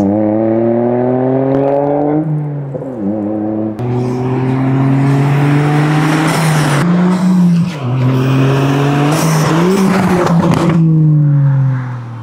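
A Toyota GR Yaris fitted with a Max Racing catback exhaust revs and accelerates loudly, its rising engine note climbing through gear changes and repeated pulls, with brief tire squeal and no talk.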